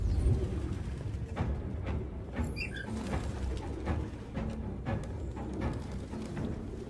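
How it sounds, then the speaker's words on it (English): Pigeons in Detroit: Become Human coo and flutter faintly against a busy background of game noise, a few soft calls scattered through the stretch, with no talking. "Goddamn fucking pigeons!"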